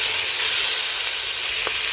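Onions and bell peppers fry in a pan with a loud, dense, continuous sizzle, close and steady throughout, broken only by one brief stirring clink near the end; no voices.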